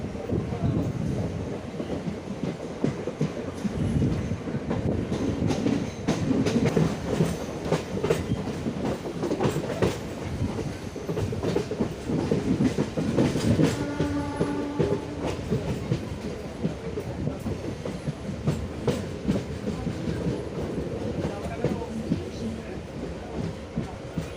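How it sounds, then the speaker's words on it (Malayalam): A train rolls into Karunagappally railway station on the Kollam–Kayamkulam route with a steady loud rumble and clickety-clack of wheels, wind buffeting the microphone and faint voices in the background. "ട്രെയിൻ ഇപ്പോൾ കരുനാഗപ്പള്ളി റെയിൽവേ സ്റ്റേഷനിലേക്ക് എത്തിയിരിക്കുകയാണ്"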